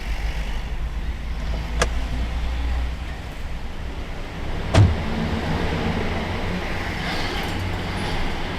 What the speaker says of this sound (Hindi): मेरी गाड़ी आ गई है, मैं जा रहा हूँ।